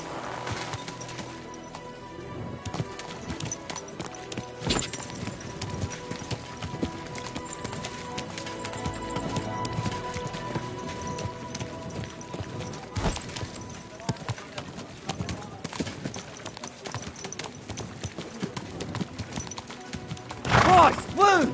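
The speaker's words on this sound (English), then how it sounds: "Watch out with that horse!" Horse hooves clip-clop along in the medieval video game Kingdom Come: Deliverance II, a steady plodding rhythm that runs throughout, with occasional voices speaking over it and background game ambience.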